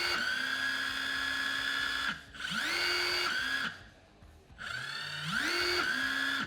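A Milwaukee 2997-22 drill runs at adjustable speed, its motor whirring in several bursts that ramp up and down in pitch between short pauses, close and fairly quiet with no speech.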